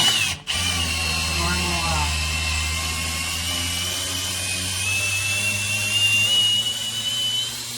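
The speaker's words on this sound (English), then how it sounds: "A drill in low mode. You can just interface onto our hex shaft." A drill in low mode spins a 7/16 deep well socket on a hex shaft, giving a steady, loud whine with low droning harmonics that runs nearly unbroken after a brief click at the start.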